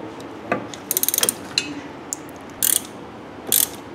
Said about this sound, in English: I'm using a box, ratcheting box end.